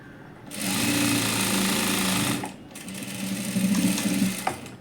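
A sewing machine stitches a size 40 princess-cut blouse in two steady mechanical runs, the first lasting about two seconds and the second slightly rougher, separated by a brief pause, close and clear with no talking.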